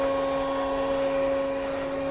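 A CNC router spindle runs at speed in a home workshop while a sign is carved, giving a steady, loud, even whine with fixed tones and no pauses.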